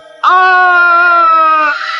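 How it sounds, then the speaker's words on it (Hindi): A man's scream, used as a sound effect in a Hindi animated story, starts abruptly and holds as one long, loud, strained cry before tailing off. "तभी हीरा के चीखने की आवाज आती है।"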